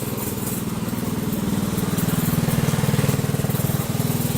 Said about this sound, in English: Looks like got a lawnmower built into a van over here too.